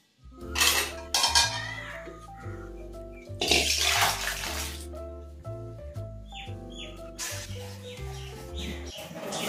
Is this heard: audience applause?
no